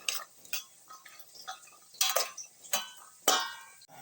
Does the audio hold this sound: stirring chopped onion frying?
yes